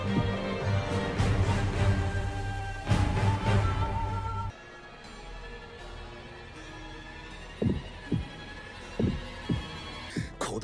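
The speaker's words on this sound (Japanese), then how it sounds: "鼓動の音がこれほど心地よいとはな。" In an anime fight, after a loud rumbling passage, a slow series of deep, soft thumps pulses like a heartbeat, evenly spaced and muffled.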